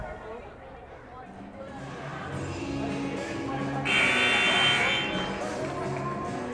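A buzzer sounds at a girls' varsity high school basketball game during a timeout, a single loud sustained tone rising over crowd chatter and hubbub in the gym.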